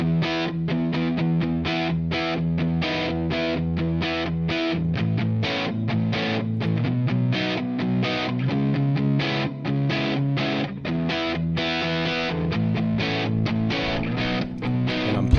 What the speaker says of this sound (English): You get a little bit of that distortion going.